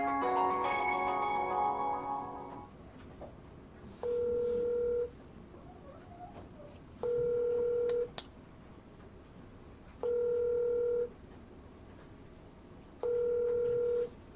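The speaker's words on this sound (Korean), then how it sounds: "이제 전화 한번 해보겠습니다." A telephone call being placed: a quick burst of keypad dialing tones, then four evenly spaced, steady ringback beeps, each about a second long, moderately quiet with no voices.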